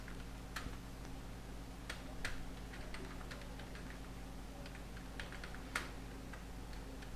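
Sparse keystrokes on a computer keyboard while typing a letter, quiet clicks at an uneven pace over a low steady hum, with no talking.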